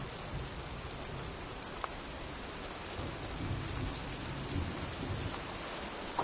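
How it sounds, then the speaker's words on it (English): Steady rain and rolling thunder from a storm in the video game Heavy Rain, a dense continuous wash of rainfall with low rumbles swelling in the second half, heard alone without voices. "looks like a storm's coming"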